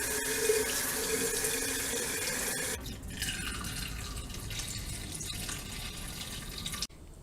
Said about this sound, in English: I'm going to repeat another cycle of rinsing and draining